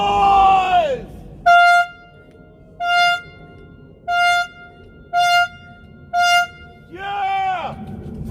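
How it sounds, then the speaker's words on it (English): Car horns sound five short evenly spaced blasts at a drive-by thank-you for frontline workers, framed by shouting voices and a crowd cheering at the start and end. "Would you clap your hands, shout, honk your horns, make some noise?"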